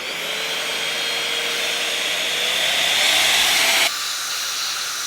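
A cheap electric air duster, roughly twenty dollars, blows a steady loud whooshing hiss with a motor whine that rises slightly in pitch, then abruptly drops in tone near the end, running alone without talk.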